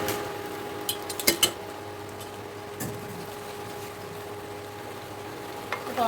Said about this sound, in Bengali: তরকারি একটু নেড়ে চেড়ে দেবো।